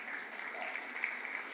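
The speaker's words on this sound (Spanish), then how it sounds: "Un fuerte aplauso para mi esposa" Faint, distant applause for a man's wife at a Sunday church gathering, a soft and steady wash of clapping heard for under two seconds.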